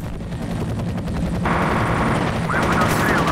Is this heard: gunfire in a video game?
yes